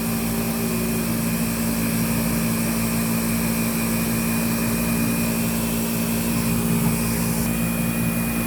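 A Windsor Versamatic Plus upright vacuum runs with its brush roll spinning, giving a loud, steady motor whine and roar that is constant and close throughout, with no speech.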